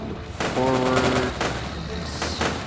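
Gunfire in a Soviet soldier video game: a few loud, sharp shots and bursts over a rumbling battlefield background, with a tonal, voice-like sound partway through.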